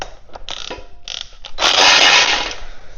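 A ratchet tightening long tube header bolts on a car, giving a few short clicks followed by a longer run of rapid ratcheting, close and clear, with no voices.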